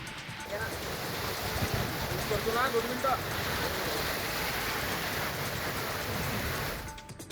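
Heavy rain pours down in a constant, dense hiss, with a faint voice briefly audible beneath the downpour.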